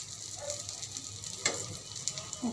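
Eggplant slices sizzle steadily in oil over low heat after being turned in the pan, a soft continuous frying hiss with a few faint clicks and scrapes.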